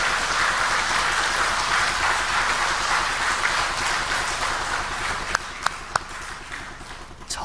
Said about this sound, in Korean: 박수 소리가 크면